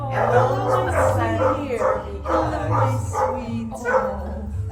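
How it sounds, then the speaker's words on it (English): A male black Labrador barks and yips several times in short bursts, close by at a window, with some voice-like vocalizing mixed in. "There's a male black lab"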